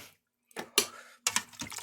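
Chicken broth poured into an Instant Pot, heard as short, close splashing bursts of liquid with brief silent gaps between the pours.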